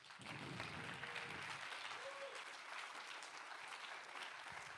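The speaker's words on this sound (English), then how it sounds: "Give yourselves a massive round of applause" A packed conference audience at React Universe Conf 2024 applauds steadily for nearly five seconds, a dense wash of clapping from a large crowd heard at a distance with no voices over it.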